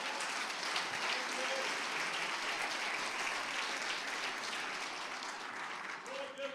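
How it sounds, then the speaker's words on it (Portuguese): A church congregation claps during a Pentecostal Assembly of God celebration service, a dense and continuous roar of many hands that holds at an even level from start to finish, with a brief voice or tone surfacing faintly. "Pode aplaudir ao Senhor."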